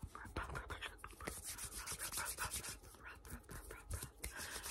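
Fingers rub cuticle oil into skin and nails up close, a continuous soft, dense rubbing and brushing with quick irregular strokes, intimate and fairly quiet, no speech.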